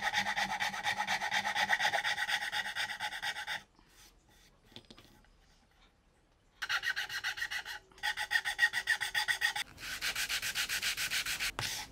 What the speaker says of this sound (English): Now it is a good time to refine some areas and give them a final sanding